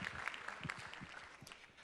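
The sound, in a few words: audience applause at a conference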